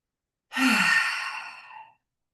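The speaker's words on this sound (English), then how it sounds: "take a deep breath with me" A single deep breath, drawn in and slowly released as a long, soft sigh, close and alone.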